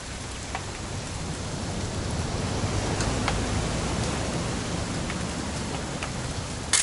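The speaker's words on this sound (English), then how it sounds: "It's gonna rain the whole weekend, isn't it?" Steady rain pours down in the video game What Remains of Edith Finch, a dense, even hiss holding level throughout with a few brief drip-like ticks, no voices present.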